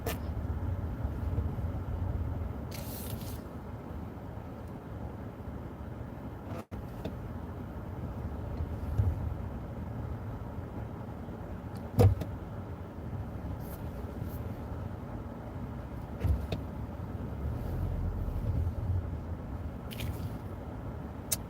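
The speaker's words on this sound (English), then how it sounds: "But there's still a lot of traffic right here" Steady road rumble from inside a moving car passing through busy traffic near shops, a continuous low engine and tyre drone with a few brief knocks and thumps, no talking.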